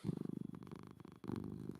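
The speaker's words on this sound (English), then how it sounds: "He is the loudest purr." A cat purrs loudly and close up, a rapid rhythmic rumbling throb that pauses briefly for a breath and then resumes, heard alone without talk.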